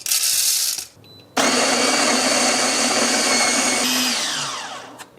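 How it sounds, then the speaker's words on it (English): A Tuni G2 coffee grinder grinds espresso beans finely at setting 12: a short loud burst, a brief pause, then a sustained, close, high-pitched whirring grind that winds down at the end. "I'm gonna probably try to do level 12 to get a nice fine grind."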